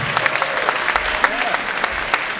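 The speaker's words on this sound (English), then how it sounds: "So I think you should give them a round of applause for this invisible miracle" An audience at a hackathon opening ceremony claps steadily, a dense patter of many hands with a few louder individual claps standing out.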